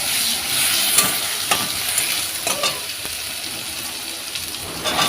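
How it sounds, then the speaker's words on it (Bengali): Chopped tomato, onion and two green chilies fry in a pan while being stirred, making a close, continuous sizzle with soft scraping strokes of the spoon. "এটাকে ভালো করে কষিয়ে নেব।"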